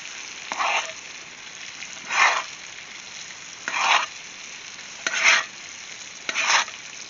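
Steaks sear in a cast iron pan on a Big Green Egg grill as they are turned, giving five separate short sizzling bursts spaced a second or more apart over a quiet background hiss.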